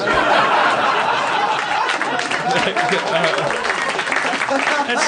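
Live comedy podcast audience applauding loudly and steadily, mixed with scattered laughter and chatter from the crowd throughout.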